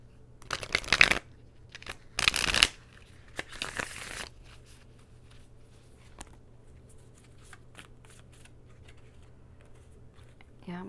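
A deck of tarot cards being shuffled, with a few quick riffling bursts near the start that fade into soft, sparse rustling and near silence.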